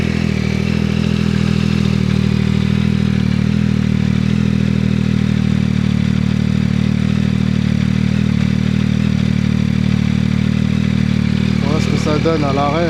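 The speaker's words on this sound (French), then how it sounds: "On va la démarrer. Tac. On va faire écouter un petit peu le bruit." A Yamaha Tracer 9 motorcycle idles at a standstill, a steady close low engine rumble holding evenly throughout, with a brief faint voice near the end.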